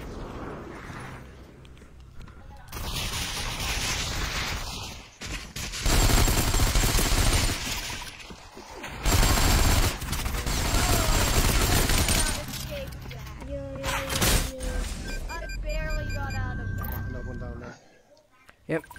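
Gunfire in the VR shooter Population: One on a sandbox map: bursts of rapid shots and fusillades come and go across the stretch, loud and close, with quieter gaps between them and game sounds underneath.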